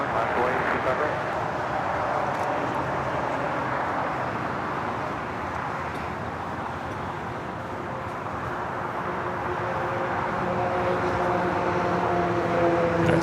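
An airliner touches down at LAX on the north side, with a steady, broad roar of engines and rushing air held at a constant level throughout.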